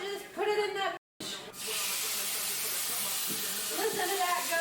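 Raw chicken dropped into a hot pan with avocado oil, a loud continuous sizzle that starts after a brief gap and holds steady, with a voice talking over the first moments.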